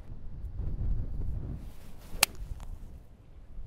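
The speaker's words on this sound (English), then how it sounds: "the wind is blowing an absolute gale" Strong gale-force wind gusting across an uphill golf hole, a steady low rumbling buffet with a sharp whip-like crack near the middle, heard alone without voices.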